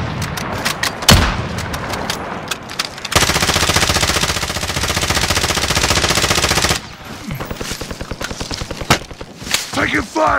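Automatic gunfire from the video game Call of Duty: Modern Warfare: a few loud single shots, then a long sustained burst of rapid fire, then more scattered shots and explosions, all close and loud.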